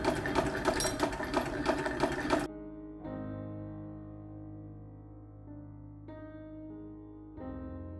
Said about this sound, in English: With right sides together, lay your waistband piece on top of the skirt piece and sew.